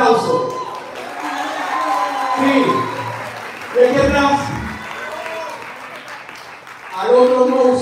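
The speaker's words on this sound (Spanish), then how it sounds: "Así que un aplauso." Applause and cheering from an audience at a live rock concert rise and fall beneath someone speaking Spanish over a microphone, with crowd noise swelling again near the end.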